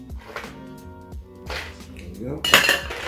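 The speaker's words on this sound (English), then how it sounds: "So we're gonna fill our tin with ice cubes." Ice cubes tumble and clatter into a metal cocktail shaker tin while a bartender builds a Scotch whisky cocktail, with a rattling burst and clinks near the end as talking continues throughout.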